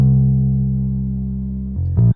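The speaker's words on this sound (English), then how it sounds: "Now the bass, I'm just using the same bass line as I use for the organ." Bass synth with a stock sound playing a low 1970s soul-style bass line copied from the organ part; one long loud sustained note slowly fading, then two short notes at the end.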